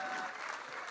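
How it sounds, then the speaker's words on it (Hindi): An audience at a Lit Chowk talk event in Indore breaks into applause, a brief faint burst of crowd clapping heard from a distance. "एक बार बहुत जोर से ताली बजाइएगा इनके लिए फिर से"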